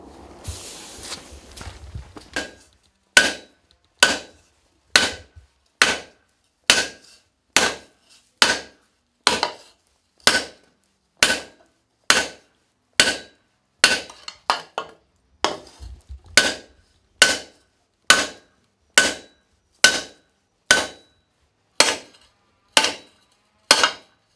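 A blacksmith at a forge in Herbignac hammers hot metal to dish it. After a short stretch of rustling, about twenty sharp, ringing blows land in a steady, even rhythm, close and loud.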